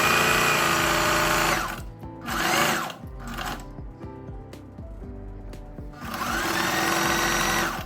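A Singer heavy-duty sewing machine stitches the crotch seam of plazo pants, its motor running in loud bursts that stop briefly and start again, with a steady mechanical rhythm.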